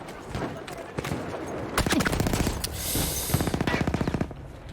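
Rapid bursts from a fast-firing gun in Battlefield 1, loud and close, coming as dense strings of evenly spaced shots amid other battle noise.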